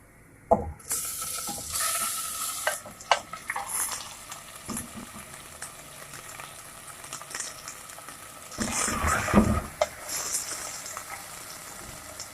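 Chicken frying with onions in oil in a handi, stirred with scraping strokes over a continuous sizzle, with a louder burst of frying partway through.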